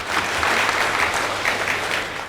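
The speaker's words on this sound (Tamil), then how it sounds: "அவருக்கு ஒரு தடவை கைதட்டுங்க" An audience claps steadily at a Tamil stage event, a full, even burst of applause from many hands with soft rhythmic swells.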